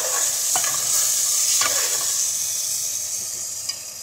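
Chicken sizzles steadily in a pan with soy sauce while being stirred for Schezwan chicken, a constant close frying hiss broken by a few brief spatula scrapes, with no one talking.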